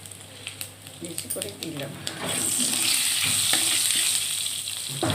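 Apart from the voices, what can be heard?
panch phoron spices sizzling in hot oil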